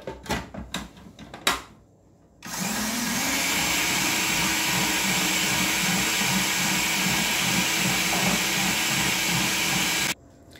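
An electric mixer whipping cream into chantilly and on toward butter, a steady loud whirring drone that runs for about eight seconds after a few knocks and clatters, then cuts off.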